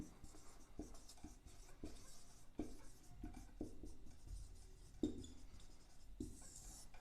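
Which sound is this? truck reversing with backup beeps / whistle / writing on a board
writing on a board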